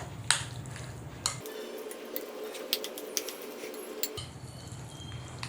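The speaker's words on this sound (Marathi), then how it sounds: "आता इथे मी सगळ्यात शेवटी घालत आहे मीठ चवीप्रमाणे आणि हे मिक्स करून घेऊयात" Salt being stirred into raita in a bowl, heard as soft scraping and light clinks of a spoon against the dish, close and quiet, over a low background hum.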